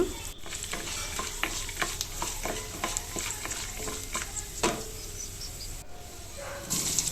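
Cashews and dried red chilies fry in hot oil for pepper rice, a steady crackling sizzle with sharp pops and spatters scattered through, close and fairly loud, with no talking.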